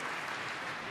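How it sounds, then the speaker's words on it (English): Snooker crowd at the Masters 2025 applauding, a steady, dense wash of clapping that fills the whole short moment without pause. "Crowd really got into that one, Steve"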